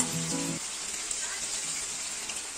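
Kitchen tap running in a steady hiss of flowing water that continues evenly throughout, with a brief voice at the very start.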